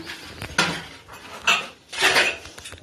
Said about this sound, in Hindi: बर्तन भी मांजेंगे है